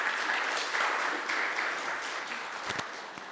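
A church congregation at a Mother's Day Sunday service in Pune applauds, a sustained, even patter of many hands clapping at moderate volume that fades slightly toward the end.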